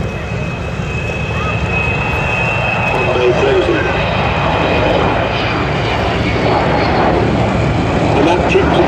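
An Avro Vulcan bomber on a display flypast, a loud sustained jet engine roar that swells gradually over several seconds, with a commentator talking over it.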